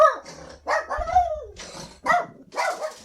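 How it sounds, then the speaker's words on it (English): A dog barks in a yard at people walking through it, several sharp, loud barks and growls in quick irregular bursts, close by and without talk. "That's my dog."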